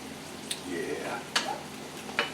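Liquid from white wine and broth cooking down in a pan with red snapper and corn succotash, a soft steady sizzle with a few sharp clinks of a utensil, while a person talks faintly in the background.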